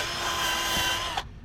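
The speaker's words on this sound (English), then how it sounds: "We're using screwdrivers and a wire bit on a drill to clean off this deck." A drill fitted with a wire bit scrubs grime off a John Deere lawn mower deck, a loud, steady whirring grind close by that holds for over a second and then cuts off sharply.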